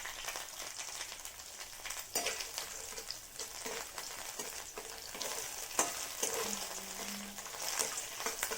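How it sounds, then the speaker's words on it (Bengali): Bottle gourd with poppy seeds and dry red chilli fries in a pan, giving a steady close sizzle broken by occasional scraping stirs. "এবার এর মধ্যে একটু শুকনো লঙ্কা দিয়ে পোস্তটা লাউটা দিয়ে দেবো।"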